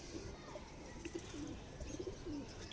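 Pigeons kept as rebreeding pairs in a loft coo softly over faint background noise, with low, repeated warbling calls spread through the short stretch.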